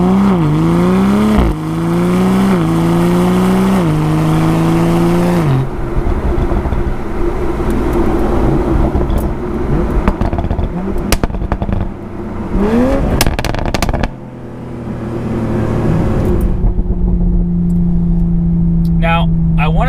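A 2020 Toyota Supra engine revs in stepped rises and drops, then settles into a steady drone and revs again, loud and close, with a voice talking over it.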